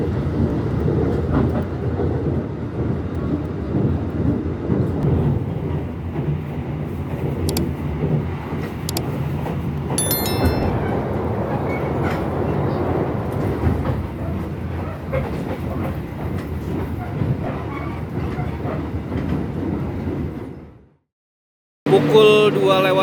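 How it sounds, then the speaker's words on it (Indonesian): The Jaka Tingkir economy-class passenger train rumbles steadily along the rails with clattering wheel noise, loud and close, then cuts to brief silence before another burst of rolling noise. "kereta api Jakatingkir tiba di stasiun Purwokerto"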